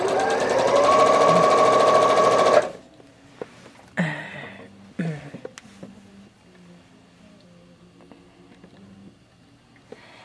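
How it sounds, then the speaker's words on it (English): A sewing machine runs fast, stitching small quilt block pieces in one continuous burst of about two and a half seconds, then stops. Quieter clicks and handling noises follow. "So then I'm going to sew this on."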